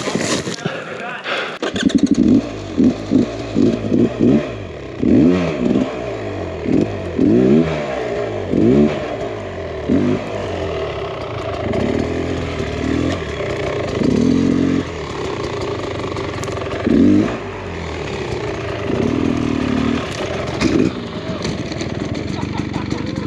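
A Beta Xtrainer 300 two-stroke dirt bike rides off-road, its engine revving in repeated bursts that rise and fall as it bounces over rough ground, with voices talking over it throughout.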